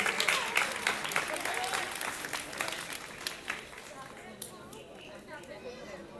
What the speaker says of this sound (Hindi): लेकिन बहरहाल इनके लिए तालियां, भट्ट साहब बहुत अच्छा परफॉर्म कर रहे हैं